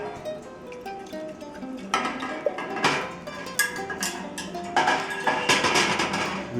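Glass canning jars clink and knock against a metal pot several times as they go into near-boiling water, with hard taps amid a soft bubbling, watery background close by.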